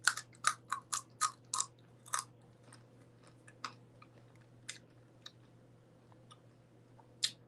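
Chewing of thick, slightly crunchy food, close and intimate, with a burst of sharp crunchy bites in the first two seconds, then sparser, quieter chews and one last crisp bite near the end, over a faint steady hum.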